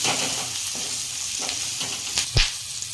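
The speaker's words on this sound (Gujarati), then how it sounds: "આપણે તેલમાં 1 મિનિટ સુધી અહીંથી મરચાંને સાતળશું." Chillies sauté in hot oil with a loud, steady sizzle close by. Faint stirring scrapes run through it, and one sharper clatter comes near the end. No voices are heard.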